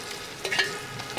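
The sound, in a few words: prawns frying in coconut oil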